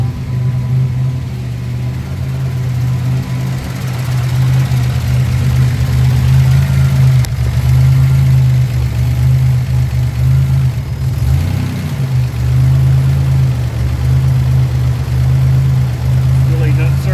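A Buick Grand National with a heating problem idles steadily nearby, a loud low rumble that holds for the whole stretch, with a brief dip in the middle and someone talking over it at times.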